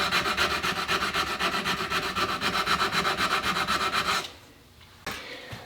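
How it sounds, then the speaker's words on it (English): A metal part is sanded by hand with 100 grit sandpaper in fast, even back-and-forth rasping strokes, loud and close. The strokes stop near the end, leaving a quieter pause before a last short scrape. "I'm going to sand this all down with 100 grit"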